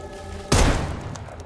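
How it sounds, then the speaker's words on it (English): A single loud gunshot with a sharp thud and brief echoing tail in the zombie game Dead Island 2, standing out against quiet background ambience. "See if I can shoot him."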